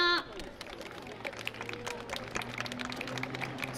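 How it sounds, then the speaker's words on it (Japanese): Audience clapping at an outdoor yosakoi dance festival, a steady broadband patter starting after a brief announcer voice, with whistles and a low hum from the crowd along the way. "大きな拍手お願いします"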